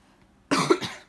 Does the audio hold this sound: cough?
yes